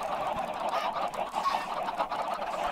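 Chickens cluck in the video game Minecraft, a dense, steady run of bird-like calls with honking edges that fills the whole short stretch without pause.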